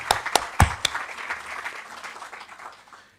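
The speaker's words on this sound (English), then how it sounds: "Applause, big applause." A conference audience breaks into applause, opening with a few sharp, close claps before settling into a dense, even round of clapping that slowly fades.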